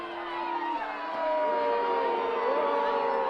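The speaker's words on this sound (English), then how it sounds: "And you can hear the boos from the crowd" A stadium crowd at a women's college soccer match between Illinois and Wisconsin boos a disallowed goal, a sustained, loud wall of jeering voices with wavering drawn-out tones that swells after the first second.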